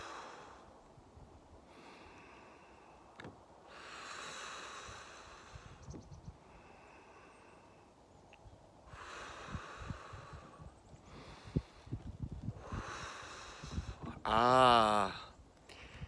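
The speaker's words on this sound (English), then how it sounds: "taking this time 4 deep breaths with me" Four slow deep breaths drawn in and let out during a relaxation exercise, each one a soft airy rush rising and fading in a steady rhythm, close and fairly quiet, with a brief louder snort-like exhale near the end.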